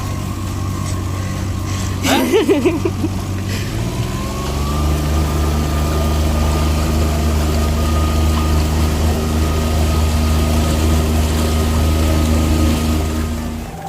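A Rota Fisher 660 motorboat engine idles on the Marmara Sea in fog, then throttles up about four seconds in and settles into a steady, louder drone, with a brief voice near the start.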